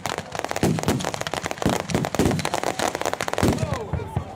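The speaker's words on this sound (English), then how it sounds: "You can see fireworks going up all over Lewes because we're right on top of the hill." Fireworks crackle and pop in dense, rapid bursts across the town of Lewes during a bonfire celebration, heard from a hilltop, with people talking throughout.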